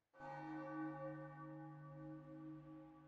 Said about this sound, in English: Oh, you can hear the bell.